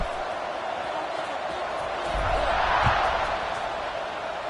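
Stadium crowd buzzing in a college football video game after a score, a steady loud roar of many voices with a brief swell midway, heard alone.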